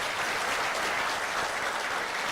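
Brief burst of continuous crowd applause at a book launch, even and unbroken for a couple of seconds with no speech.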